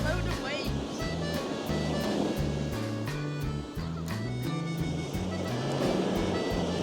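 Ocean waves breaking on a beach in Tenerife make a steady, loud wash of surf that runs without pause under a rhythmic musical backing.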